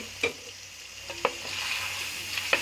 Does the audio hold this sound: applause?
no